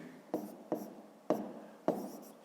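Pen or chalk writing numbers by hand on a surface, four quick scratchy strokes spaced at uneven intervals, close and fairly quiet.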